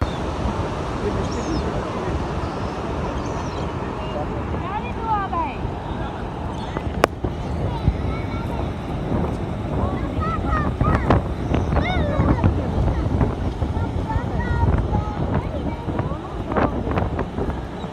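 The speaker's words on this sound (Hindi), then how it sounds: "जो हवा की आवाज़ थी, समंदर की आवाज़ थी, उसको सुन सके मेरी आवाज़ के अलावा" Sea and wind at Karachi Sea View: constant blustery wind buffeting the microphone over rolling surf, loud and unbroken, with voices faintly audible underneath.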